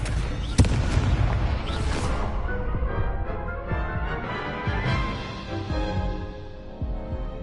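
Confringo explosive spell cast in Hogwarts Legacy, a sharp close blast followed by crackling, rumbling aftershocks and scattered booms that slowly fade over several seconds.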